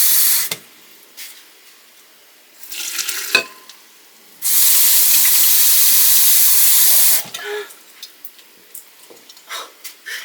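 Cold water pours steadily into a container in a kitchen while infused water is being made. A loud, hissing rush lasts a few seconds, with light clinks and handling sounds before and after.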